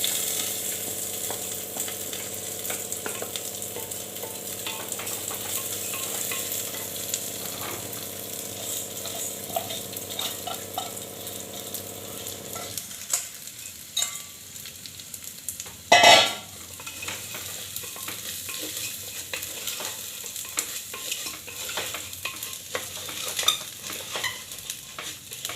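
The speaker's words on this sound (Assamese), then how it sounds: "মই এতিয়া 20 মিনিট সময় চাউলখিনি কম গেছত ভাজিম।" Rice frying in ghee in a cooker over low gas for mutton pulao, a soft steady sizzle with stirring scrapes and occasional utensil knocks; a hum drops out partway and one sharp clatter stands out.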